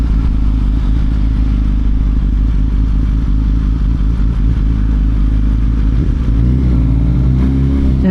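A 2018 Suzuki GSX-R 1000 fitted with a G2 throttle tamer pulls hard under steady loud engine drone, the pitch shifting near the end as the rider rolls on the throttle, with wind rush throughout.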